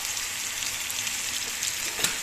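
Steady, dense sizzle of shrimp frying in hot oil in a pan, a continuous crackling hiss with small pops, close and fairly quiet.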